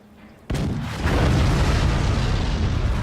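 Heavy cannons fire in the siege-building video game Forts, a sudden loud boom followed by a sustained, roaring barrage of blasts and rumbling impacts.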